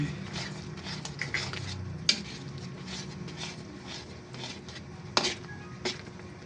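Palabok sauce being stirred in a metal pot, a spoon scraping and clinking against the sides in a steady rhythm with soft bubbling underneath, close and moderately loud.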